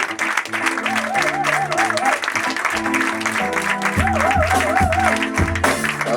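Church convention crowd applauding and cheering as a pastor is welcomed, dense and loud throughout, with organ or keyboard music and a singing voice running underneath.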